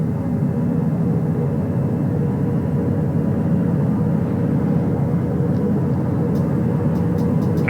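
Helicopters aboard a recovery ship on the flight deck winding down after a spacecraft splashdown recovery, a steady loud low rumble and engine drone filling the whole stretch, with a few faint clicks near the end.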